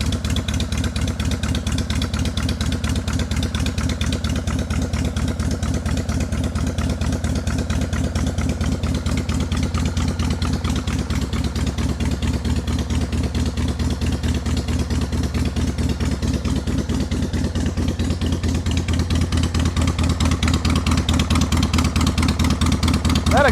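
A freshly repaired motorcycle idles loudly up close, its exhaust pulsing with a fast, even, throbbing beat. The idle holds steady for over twenty seconds and picks up slightly toward the end.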